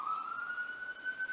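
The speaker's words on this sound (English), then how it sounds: "Sorry about that if you hear a siren in the background." A distant siren holds a steady, slowly rising tone in the background, faint and continuous for a brief moment with no talking over it.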